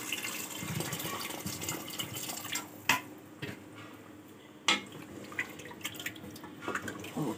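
Water sloshes and trickles into a pressure cooker for a meat and potato curry, with a couple of sharp clinks of metal standing out amid the steady liquid noise.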